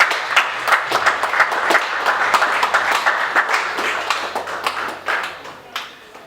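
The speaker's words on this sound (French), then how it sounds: "Si nous pouvons applaudir, s'il vous plaît." Audience applause at an honouring ceremony for a dental surgeon, steady sustained clapping from a room full of people lasting throughout, with sharp individual claps standing out over the dense wash.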